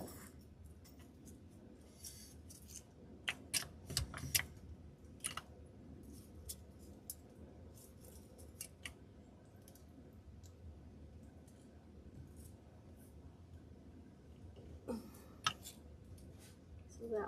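Scissors snip through materials for a church storm door wreath with florals, giving a few sharp, close clicks and cuts spread across a quiet, steady room background.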